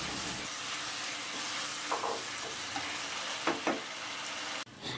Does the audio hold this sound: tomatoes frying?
yes